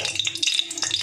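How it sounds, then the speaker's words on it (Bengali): Cinnamon and cardamom pods crackle and sizzle in hot ghee for a sweet saffron rice dish, a close, bright spattering with quick pops and hiss. "এই যে দারচিনিটা ফোড়নে দিয়ে দিলাম, আর এলাচগুলো ফাটিয়ে আমি দিয়ে দিলাম।"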